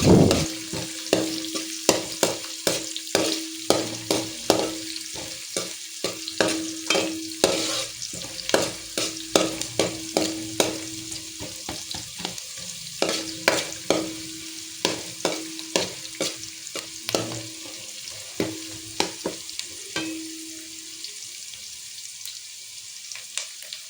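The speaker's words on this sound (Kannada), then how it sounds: "ಇದನ್ನು ಮೀಡಿಯಂ ಫ್ಲೇಮಲ್ಲಿ ಫ್ರೈ ಮಾಡಿಕೊಳ್ಬೇಕು" Onions frying on a medium flame for vegetable fried rice, a steady sizzle with repeated scraping stirs of a spatula in the pan, close and fairly loud throughout, with no voices.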